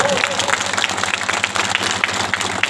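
A crowd at an outdoor gathering claps, a dense patter of hands that continues steadily, fairly close and moderately loud.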